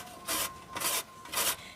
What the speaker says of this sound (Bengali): এবার আমি এই পেঁপেটাকে একটা গ্রেটারের সাহায্যে গ্রেট করে নেব।